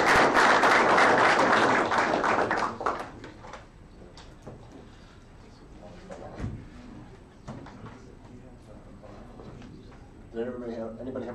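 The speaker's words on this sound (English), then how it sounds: "applause for Scott" An audience at a Linux user group lightning-talk meeting applauds for a few seconds, then the clapping fades into quiet room noise and faint voices talking.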